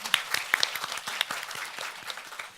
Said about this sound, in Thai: ขออนุญาตทุกท่านปรบมือต้อนรับProfessor